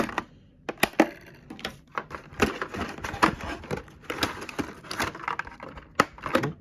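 A zip tie is snipped on the bottom of a Losi Mini-B 1/18 RC buggy box during unboxing, with sharp clicks, cardboard crunches and scraping handling noises in irregular bursts, close and fairly loud.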